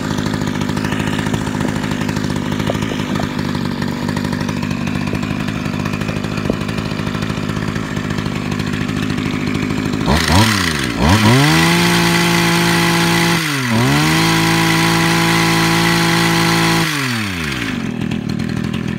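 Echo HC-1500 small two-stroke engine on a hedge trimmer idles steadily, then revs up hard to high RPM with a loud sustained whine, briefly dips and climbs again before dropping back toward idle.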